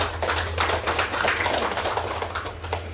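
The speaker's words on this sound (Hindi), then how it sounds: "प्रदीप सिंह सर को एक ताली" An audience clapping at a weekly business meeting, dense and fairly loud applause with many hands overlapping evenly, under a steady low hum.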